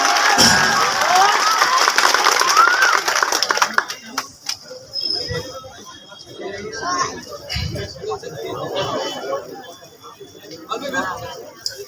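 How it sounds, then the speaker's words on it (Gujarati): A crowd at a Congress rally in Kodinar cheers and applauds to welcome Anandbhai Yagnik, a loud burst of clapping and shouting for about four seconds that then gives way to scattered crowd noise and voices. "આનંદભાઈ યાજ્ઞિક તાળીઓથી એમનું સ્વાગત કરીએ."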